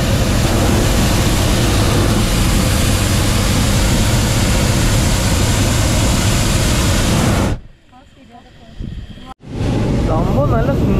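A hot air balloon burner roars loud and close, a broad, steady blast like a jet engine that cuts off abruptly near the end, followed by quieter wind and a brief renewed roar.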